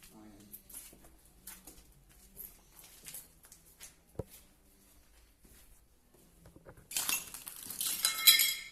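Broken glass in an abandoned hotel: soft, sparse footsteps and faint debris sounds, then a sudden loud crunching and clinking of glass being stepped on near the end.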